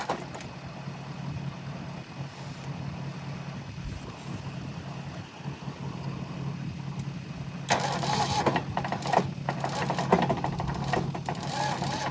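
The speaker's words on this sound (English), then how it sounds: "Hopefully these jumper cables give us enough power to start this engine." A pickup truck engine catches after a jump start and keeps running, its steady low rumble joined by a louder, rougher roar partway through, close by with no talk over it.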